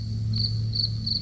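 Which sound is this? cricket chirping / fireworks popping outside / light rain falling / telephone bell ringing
cricket chirping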